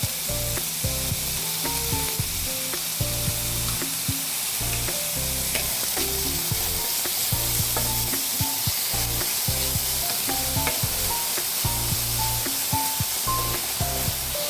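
Chopped spring onion greens fry in a little oil in a pan, a steady loud sizzle with crackling pops and clinks of stirring throughout, no talking.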